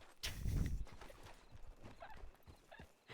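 A horse in the Red Dead Redemption game (WildRP roleplay server) gives a short whinny, then its hooves clip-clop as it gallops off and fades into the distance, with no voices over it.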